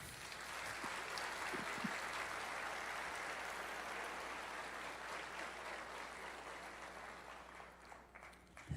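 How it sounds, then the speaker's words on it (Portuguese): A church congregation applauding during a family service, a soft, distant wash of clapping that holds steady and fades slightly toward the end. "Se você pode dar uma salva de palmas à criação de Deus."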